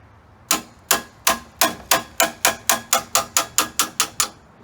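A tool struck repeatedly to unscrew a screw on a mobility scooter transaxle produces about fourteen sharp metallic hammer-like clacks, close and loud, in a quickening, evenly spaced rhythm.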